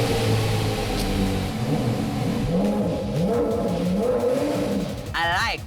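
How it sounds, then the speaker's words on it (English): An expensive supercar's V10 engine roars loudly and close, its pitch climbing and falling through repeated revs, with a brief sweeping whine near the end and no talking. "The V10 on that car, this is the most unique engine sound"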